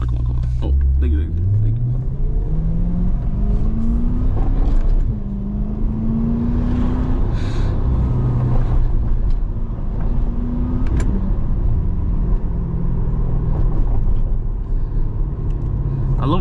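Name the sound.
car engine and exhaust burbles while driving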